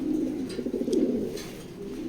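Male racing pigeons in a breeding loft coo in a soft, low, continuous throaty rumble close by, with no talking.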